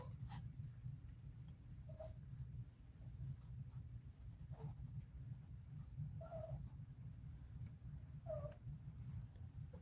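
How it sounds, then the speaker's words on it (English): Dog whining indoors in short, faint, high whimpers scattered over steady low background noise and rustling. "My dog is whining and being a cheapilon."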